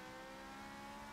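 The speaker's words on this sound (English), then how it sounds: "Got on the throttle too hard there" A race car in Forza 7 revs hard under full throttle with a sustained high engine whine and tire spin, steady and loud, no pauses.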